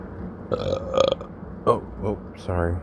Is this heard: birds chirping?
no